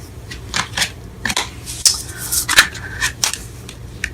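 A deck of tarot cards is shuffled near the microphone in quick, uneven bursts of riffling and flicking, with short pauses between each handful.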